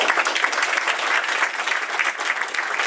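An audience applauds two speakers at the close of a public meeting, a dense sustained clapping of many hands, steady and fairly loud across the whole stretch, with no voices rising above it.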